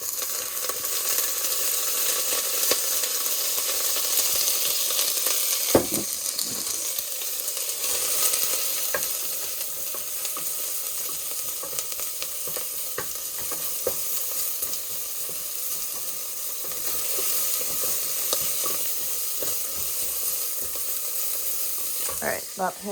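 Mushrooms and vegetables sizzle in hot olive oil in a Dutch oven for cream of mushroom soup. A continuous, fairly loud frying hiss carries on throughout, broken now and then by soft stirring scrapes and clinks.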